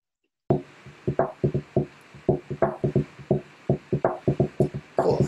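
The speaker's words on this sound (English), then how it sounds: "And the way that I specify that is through my tap on the table," Knuckles tapping a rhythm on a tabletop, a close series of dry, woody knocks in an uneven pattern, with quick clusters and short gaps, played alone.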